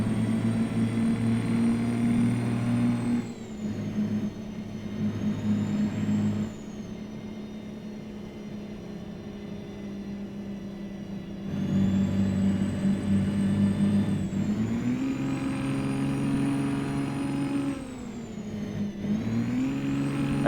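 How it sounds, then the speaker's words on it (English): Simulated Kenworth K100 cabover truck engine in American Truck Simulator, a loud steady diesel drone that repeatedly surges and drops as the throttle cuts on and off, rising and falling in pitch with shifts. "I'm not moving the throttle at all, and it keeps doing this weird on-off throttle"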